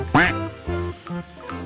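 Several loud, nasal duck quacks in quick succession close by, alongside a muddy toy duck.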